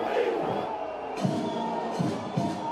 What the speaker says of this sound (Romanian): Se aud huiduieli.